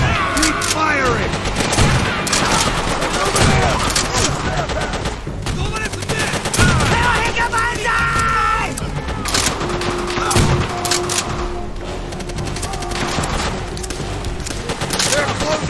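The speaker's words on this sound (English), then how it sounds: "Keep firing!" Dense rifle and machine-gun fire rattles through a Call of Duty: World at War campaign battle, loud and continuous with overlapping bursts, while soldiers shout orders over it.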